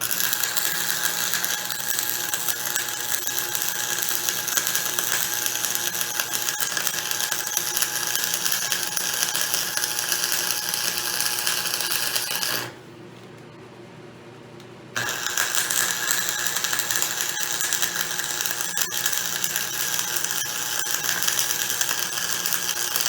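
Milling machine taking a somewhat heavier but still light cut on steel gussets for Allis Chalmers forks, a steady close mechanical whir and chatter that drops out briefly for a couple of seconds before resuming.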